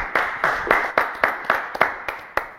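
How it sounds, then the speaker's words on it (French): Sharp, loud handclaps come in a quick, even rhythm, about four per second, sounding like a small group rather than a large crowd. "on va les applaudir quand même"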